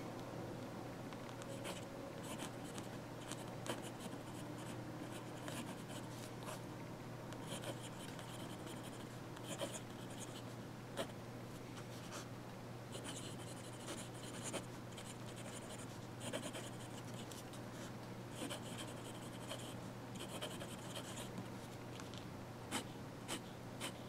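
An Amazon Basics or Pilot Metropolitan fountain pen nib scratches across paper while drawing, a steady, close, dry rasp with rhythmic strokes and small taps running throughout, no voices.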